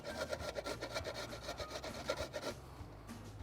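Fibrous ingredient for fried rice rasped on a fine small-hole grater, steady rhythmic scraping strokes close up, repeated quickly for about two and a half seconds before trailing off into quieter handling.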